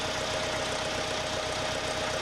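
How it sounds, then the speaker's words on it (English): Caterpillar D4D crawler tractor working a field with a Dowdeswell DP1 mounted plough, its engine a steady, loud, knocking drone with no pause. "At the furthest end of the field we've got this Caterpillar D4D, and it's working with a Dowdeswell DP1 plough."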